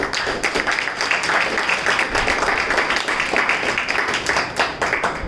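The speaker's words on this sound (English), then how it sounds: "So for all their efforts, sign of gratitude, let's give a big round of applause." A Toastmasters meeting audience claps steadily for several seconds, a dense, even patter of many hands filling the room with no voices over it.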